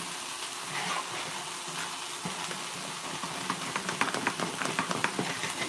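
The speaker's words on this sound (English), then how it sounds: "Stir my grits back around." Grits being stirred in a cooking pot, a soft wet scraping and bubbling with faint sizzle, growing into irregular clicking spoon strokes toward the end, close up with no talking.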